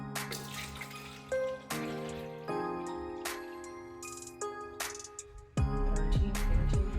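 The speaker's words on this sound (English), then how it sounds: "bring it up by adding some more water" Water running from a tap into a container while measuring for cold process soap making, a steady pour with stops and restarts and a few clunks of handling, close and alone.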